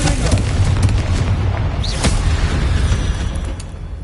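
A blasting spell explosion in the Hogwarts Legacy video game, a loud rumbling boom that stays heavy and sustained for several seconds with mechanical rattling layered through it.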